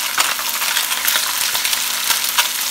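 Jamonilla sizzles and crackles loudly in a frying pan as it is stirred, the dense hiss steady and close, with occasional scraping taps and no voices.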